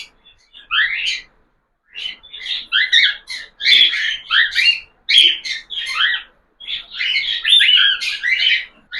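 Cockatiels, adults and chicks recently separated from their parents, chirp and squawk in repeated bursts of bright calls, close and fairly loud, with short pauses between flurries and no talking.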